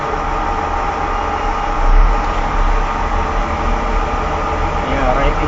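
Right-side engine of a 6040 excavator running steadily at idle, a continuous low mechanical rumble with constant loudness throughout.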